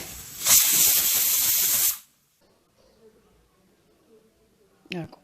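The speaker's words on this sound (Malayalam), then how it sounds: "കുക്കർ 3 വിസിൽ വരുന്ന വരെ അടുപ്പ് കൂട്ടിയിട്ട് വെക്കുക" A pressure cooker of beef cooking with pepper releases steam in one loud, steady hiss lasting about a second and a half, then cuts off to near silence with faint kitchen noises.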